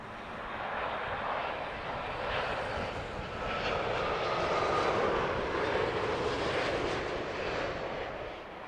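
An eleven-year-old airliner on approach into Heathrow in the evening, a broad, steady jet roar at moderate distance that swells slightly midway and holds without voices.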